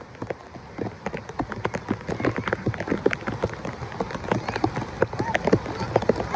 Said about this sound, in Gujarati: અને વરસાદ ચાલુ છે હો પાછો.